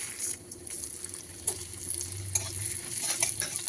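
Mung dal dropped into hot oil with mustard seeds and dried red chilli, a soft steady sizzle with faint stirring scrapes, close but quiet.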